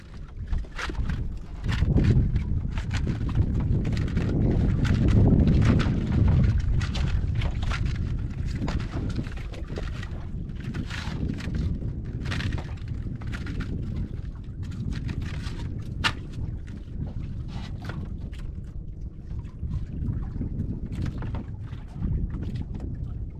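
Steady wind buffets the microphone on a small fishing boat at sea, a continuous rumbling roar with gusty swells and scattered knocks and thumps throughout, no talking heard.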